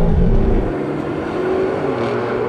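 A BMW M car launches hard in a drag race against other M models, its engine roar loud and sustained under acceleration for a couple of seconds.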